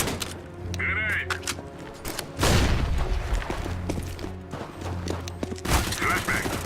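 A grenade blast in CS:GO bursts out loud and close partway through, among rapid gunfire, rumbling game noise and voices talking over team chat.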